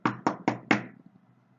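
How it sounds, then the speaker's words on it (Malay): Four firm knocks on a house door, quick and evenly spaced, close and clear with a slight ringing tail and no talk. "ketuk pintu sebagai amaran kepada orang di dalam rumah bahawa ada orang di luar yang hendak masuk ke dalam rumah"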